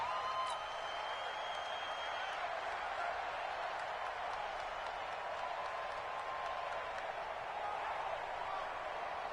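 A football stadium crowd roars in a steady, distant wash of cheering and applause at a Cincinnati Bengals at Cleveland Browns game, with no break throughout.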